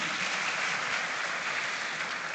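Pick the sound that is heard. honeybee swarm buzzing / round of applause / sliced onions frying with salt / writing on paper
round of applause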